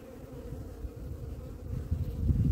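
Dense, steady droning hum of honey bees during a beehive inspection, heard up close and continuous, swelling slightly louder toward the end, with no talking.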